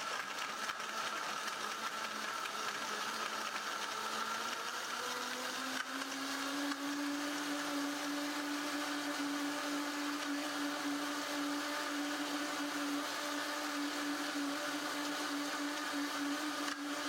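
A Vitamix Professional 750 Heritage blender runs through a preset program, giving a continuous, even motor whir whose pitch climbs during the first few seconds and then holds steady, with no talking.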